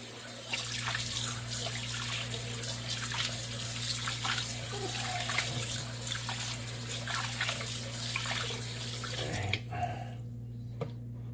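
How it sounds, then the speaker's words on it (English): Cold water runs steadily from a tap as fish is gently rinsed, with soft splashing and trickling, a continuous close wash of sound that cuts off near the end. "you just want to kind of gently rinse it."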